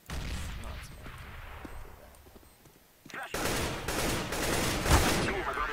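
Bursts of rapid gunfire in Counter-Strike: Global Offensive, fairly loud, with a quieter stretch in the middle and a dense volley near the end, and players talk over the game sound.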